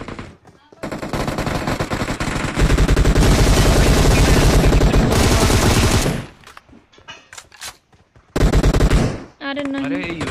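Rapid UMP submachine-gun bursts in the mobile shooter BGMI, loud and sustained automatic fire that empties a magazine, then stops. A short second burst follows, with game sounds and chatter in the gaps.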